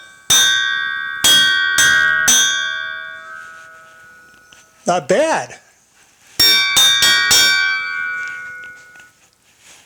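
A freshly cast metal cylinder, poured from the bottom up as a trial for a bell, rings with several loud bright strikes, each tone sustaining and slowly decaying; a brief voice comments in between before another cluster of strikes rings out.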